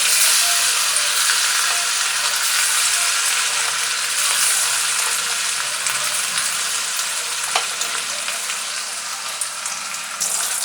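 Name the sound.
chicken 65 pieces frying in oil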